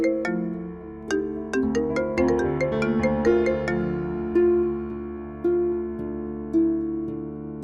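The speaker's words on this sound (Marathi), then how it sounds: "हा, संजू, महत्वाचा फोन आहे, मला घ्यावं लागेल." A melodic phone ringtone plays alone, a bright repeating tune of chiming notes that loops steadily and loudly throughout.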